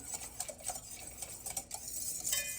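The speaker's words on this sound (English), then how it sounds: "But the main thing is just to make sure everything's stirred down" Homemade yogurt being stirred, a steady scraping and clinking of a utensil against the pot with soft irregular taps throughout and no voices.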